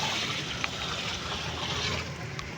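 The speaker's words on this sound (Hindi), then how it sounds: "अब हम इसमें पानी डाल देंगे। 10 किलो चावल है और 15 किलो पानी जाएगा।" Water pours steadily into a large pot holding 10 kg of rice for a plain vegetable pulao with potatoes, peas and carrots, a continuous close broadband rush with a few small splashes and no talk.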